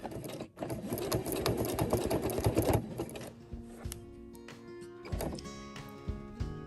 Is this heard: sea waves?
no